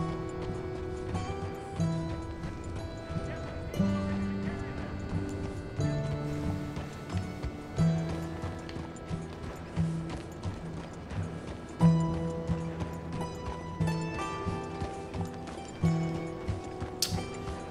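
Horse hooves clip-clop at an easy, unhurried pace on a muddy Saint Denis street in Red Dead Redemption 2, a steady rhythm of near, moderate hoofbeats over a background of in-game music.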